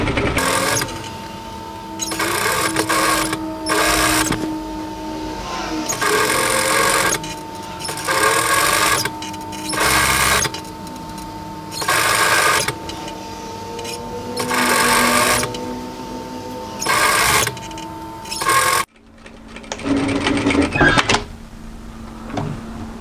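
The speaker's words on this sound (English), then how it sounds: "So I'm just going to stitch this directly through the overlocking line." A sewing machine stitches a seam on a dress in repeated bursts of rapid whirring, each lasting a second or two and separated by short pauses, with a quieter, different room tone near the end.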